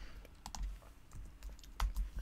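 Typing on a computer keyboard, a quick scatter of light clicks and key taps at close range, quiet and fairly irregular, with no talk.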